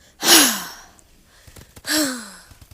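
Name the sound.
voice imitating a loud gasping breath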